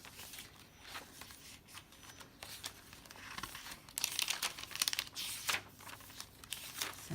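Paper being handled and crinkled for a travelling journal kit, dictionary paper rustling close by in soft intermittent bursts that grow louder and denser toward the end.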